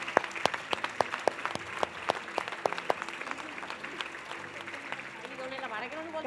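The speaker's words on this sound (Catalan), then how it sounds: "Un fort aplaudiment per totes elles." At a festival reception honoring women, a small crowd claps in distinct, fairly sparse hand claps that thin out as voices begin talking over the room toward the end.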